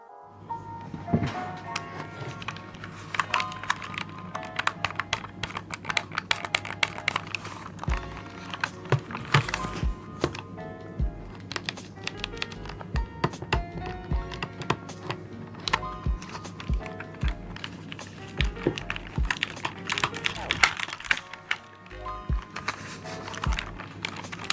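Dense, rapid tapping and clicking on the plastic shell and buttons of a Nintendo 2DS handheld console, close and steady for the whole stretch, with no talking.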